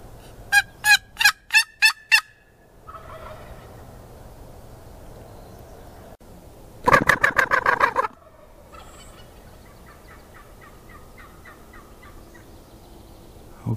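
Wild turkeys gobble outdoors in a mountain setting, two loud rapid bursts several seconds apart followed by fainter distant gobbling, over quiet background ambience.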